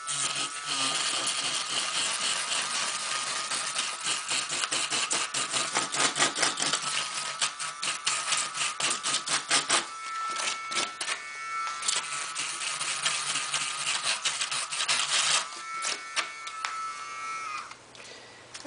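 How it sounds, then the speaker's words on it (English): Dremel rotary tool trimming a styrofoam edge for a stone kitchen backsplash, giving a steady high buzzing whine that pulses and stutters as the bit bites into the foam, close and continuous with no talk. "I'm going to use my Dremel tool and make it a nice straight defined line."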